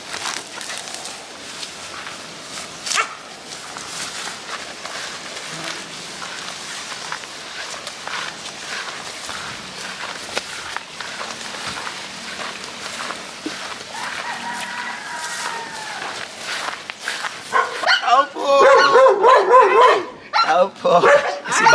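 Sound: dogs barking

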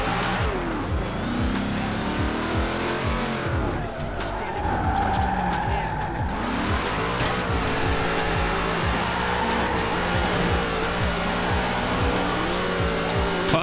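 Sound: car driving with tire squeal in video game Forza Horizon 4

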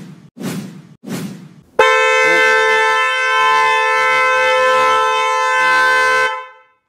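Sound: vehicle horn activated remotely via Otis diagnostic tool

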